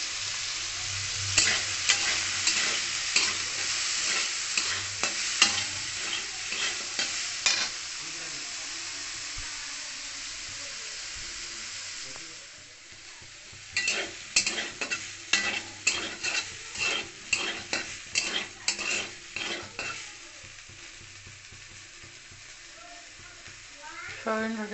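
Soybean chunks with salt and turmeric are fried in a pan with oil, a steady sizzle punctuated by rapid rhythmic spatula scrapes and clacks against the pan, pausing midway before another quick run of stirring.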